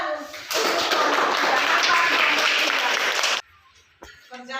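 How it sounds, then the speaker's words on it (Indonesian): Classroom applause for a student group, a steady burst of clapping from many hands lasting about three seconds, then fading into quiet room noise with some light shuffling. "Tepuk tangan untuk kelompok"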